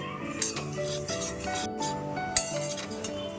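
Fox nuts and oats are stirred and dry-roasted over low heat in a pan, giving a continuous close rattle with light clinks from the utensil against the metal. A faint musical tone plays underneath.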